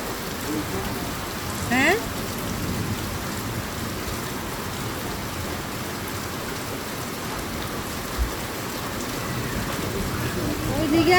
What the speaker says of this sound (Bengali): কোন দিকে মনে হয় অনেক বৃষ্টি হইতেছে